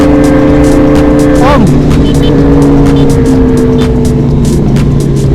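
A Kawasaki Ninja H2 motorcycle engine roars loud and close, its pitch climbing and dipping through a sharp rev, with voices talking over it.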